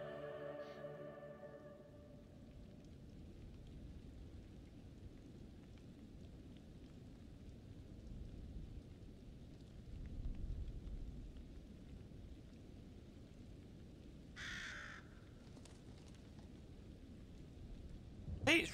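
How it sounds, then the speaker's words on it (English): Steady rain patters in a low, continuous wash with a soft hiss, briefly swelling midway and ending with a sharp burst, in the video game The Dark Pictures Anthology: Little Hope. "It's raining."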